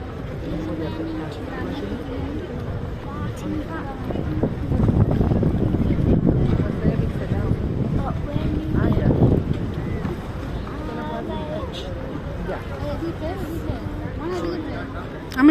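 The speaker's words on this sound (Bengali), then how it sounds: "জাহাজ যাচ্ছে ফটো তুলিস।" A large ship passes beneath the raised Tower Bridge in London, a low steady rumble under heavy wind buffeting that swells in the middle, with people talking nearby.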